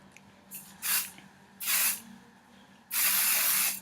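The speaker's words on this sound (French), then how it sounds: "moi je me mets un spray gloss pour donner un peu plus de brillance aux cheveux" Three hissing bursts of Eugène Perma Artist gloss spray misted onto hair, two short puffs followed by a longer spray, close and clear over a quiet room.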